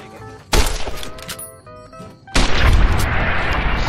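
Two heavy, booming gunshot bursts from the video game Fallout New Vegas ring out close and loud, the second followed by sustained rattling gunfire and crashing impacts, with no talk.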